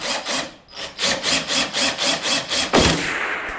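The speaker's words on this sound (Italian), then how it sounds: "Monto la punta sul trapano e delicatamente vado a scavare." An electric drill bores a hole in a fishing lure clamped in a vise, a close series of regular grinding pulses followed by a louder sustained whir at the end.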